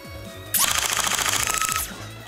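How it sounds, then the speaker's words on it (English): A full-auto brushless Nerf blaster, the HC Diana sidearm, dumps its magazine in one rapid burst of about a second, a fast rattling stream of close mechanical shots after a brief motor whine. "How about a mag dump?"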